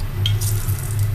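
Potato wedges go into hot frying oil, giving a close, steady sizzle with a brief sharper crackle as they land.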